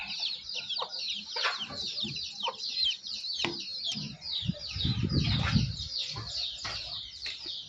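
Free-range country hens cluck steadily in a rural poultry shed, many birds calling close by in overlapping bursts, with a heavier rustle of wings or movement in the middle.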